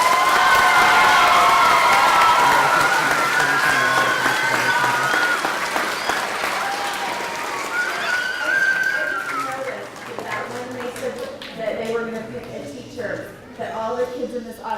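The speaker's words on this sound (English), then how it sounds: "Let's give her another round of applause." A school auditorium audience at a Teacher of the Year assembly bursts into loud applause and cheering with children's shouts, the clapping gradually thinning and fading over several seconds.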